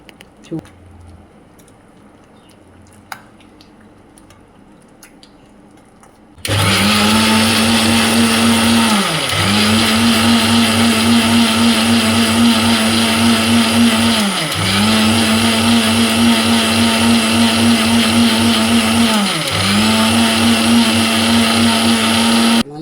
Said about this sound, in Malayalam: എന്നിട്ട് മിക്സിയിൽ അടിച്ചിട്ട് സോസാക്കാം